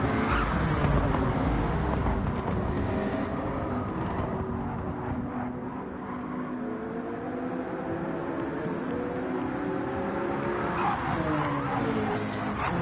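Race cars in a sim racing game round a circuit, engines droning continuously with rising and falling pitch as they shift and corner, occasional tire scrub mixed in, no talking.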